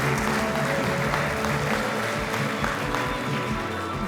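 A crowd cheers and applauds continuously at a celebration event on Kauai, a dense, steady wash of clapping and voices filling the whole stretch without a break.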